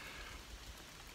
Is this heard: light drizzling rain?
yes